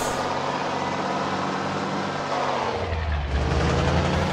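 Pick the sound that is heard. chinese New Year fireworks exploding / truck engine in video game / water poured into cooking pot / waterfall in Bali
truck engine in video game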